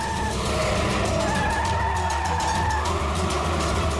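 A van carrying children swerves and skids along a road during a chase, tires squealing in sustained screeches over a constant loud engine roar, with no talk.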